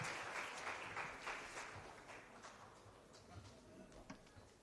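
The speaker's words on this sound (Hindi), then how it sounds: "जोरदार तालियों से आप स्वागत करिए" An audience at an award event in Dewas applauds in a steady, moderately loud wash of clapping that slowly fades, with some voices underneath.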